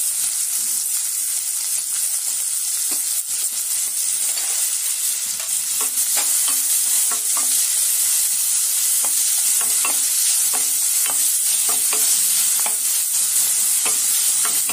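Finely chopped onion sizzles loudly in hot oil with asafoetida in a pan for a green tomato vegetable dish, a constant close hiss with scraping stirring strokes throughout.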